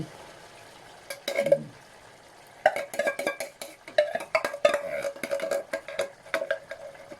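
A spoon scrapes and clinks in a pot of pork cooking in coconut milk, irregular stirring knocks and scrapes close by over a low simmering background.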